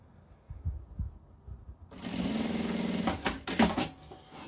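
A sewing machine stitching bias binding onto fabric starts after a quiet moment, running in a steady close whir with a brief pause and a few knocks near the end, no talking.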